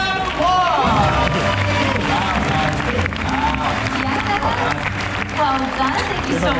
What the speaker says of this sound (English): Now then, give a round of applause.